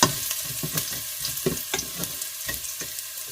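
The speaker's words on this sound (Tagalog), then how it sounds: "Gagamitin natin yan para sa panggisa. Tapos, lagay na natin ang garlic." Garlic sautéing in cooking oil in a pan, a steady sizzle broken by repeated scraping and stirring strokes, close and moderately loud with no talking.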